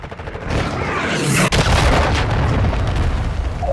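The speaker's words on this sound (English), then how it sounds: "Hostile cruise missile launched." A cruise missile explodes in a Call of Duty video game, one loud booming blast near the midpoint following a rising whoosh, then a long roaring rumble of debris and gunfire.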